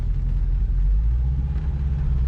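A teenager's first car rolls along under its own power, a steady low engine rumble heard from inside the cabin, loud and continuous.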